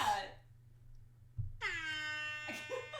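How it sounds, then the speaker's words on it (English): A loud air horn blares for over a second after a short spoken phrase, a strong harmonic blast with a brief second burst near the end. "we're going out on the air horn"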